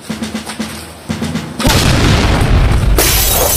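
A firecracker goes off with a loud, close boom that turns into a long roar of crackling bursts. A few quieter rhythmic knocks come just before it.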